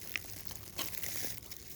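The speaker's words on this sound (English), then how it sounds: "just pry the packet open" A small foil reagent test packet for a nitrate aquarium test is pried open with little scissors, giving brief crinkling and tearing rustles at close range, faint and quiet with a couple of sharper crackles.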